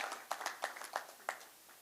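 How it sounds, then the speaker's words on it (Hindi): Scattered, irregular hand claps from a small audience honoring Dr. Aditya Shukla at a memorial lecture series, quiet and sparse, a handful of distinct smacks rather than a full ovation. "एक बार तालियां उठाएं डॉक्टर आदित्य"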